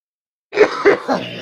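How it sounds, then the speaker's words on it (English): Three quick, close coughs in a row after a moment of silence. "We're coughing."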